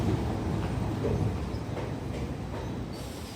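New York subway train running, a loud continuous rumble and roar of wheels on track inside the car, steady throughout with no talk.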